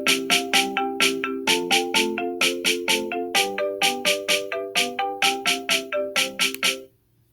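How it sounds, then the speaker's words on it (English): Marimba melody over a simple snare and bass drum kit built in Chrome Song Maker, with steady, evenly spaced struck notes in a repeating pattern, moderately loud and alone, ending with a short decay. "So the kit is going to be a combination of snare drum and bass drum."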